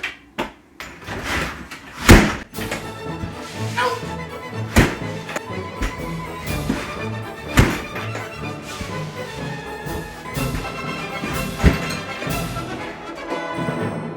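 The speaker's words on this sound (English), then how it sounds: "Alright, let's see if I can get this door closed so that it actually locks." A tight back door is shoved and pulled shut again and again, giving a steady run of close, loud knocks, bangs and rattles with a few sharp slams standing out, and no talking.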